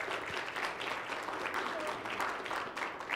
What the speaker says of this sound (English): So round of applause for all our young ladies.